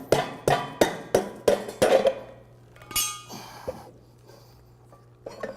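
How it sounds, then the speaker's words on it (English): Light hammer taps on the tie rod section of a pump discharge casing during disassembly: about six sharp metallic knocks in quick succession, then a few scattered fainter clanks and clinks, close by with no talk. "you can just do that by slightly tapping on the tie rod part of the casing and applying some pressure upwards"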